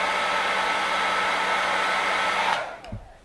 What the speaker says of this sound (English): then you got to turn your hair dryer on again